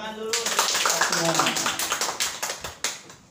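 A group of school teachers clapping their hands together at a primary school gathering, a burst of dense, fairly loud applause that thins into a few scattered claps; a voice speaks at the very start.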